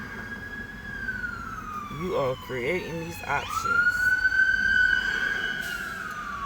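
Emergency vehicle sirens wail past outside a parking lot, rising and falling tones sweeping loud and near, with someone talking over them throughout.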